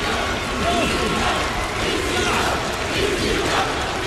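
An arena crowd at a televised wrestling match roars and chants steadily for Super Crazy and Psicosis, a dense, continuous wall of cheering at full volume throughout.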